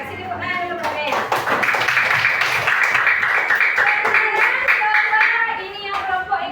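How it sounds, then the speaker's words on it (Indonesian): Elementary schoolchildren in a fifth-grade class applauding a classmate, steady dense clapping from many small hands over several seconds, close and loud, with children's voices chattering underneath. "Kasih tepuk tangan dulu buat Naya"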